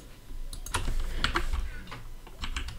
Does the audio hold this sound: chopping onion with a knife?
no